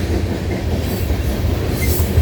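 A train rolls past close by with a loud, continuous rumble, heavy low-end pounding and clattering wheels, with faint metallic squeals riding on top.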